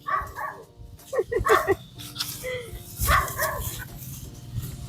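A dog barks several times outdoors on a farm during land preparation. The barks come in short bursts at moderate distance, with a person's voice and background noise around them.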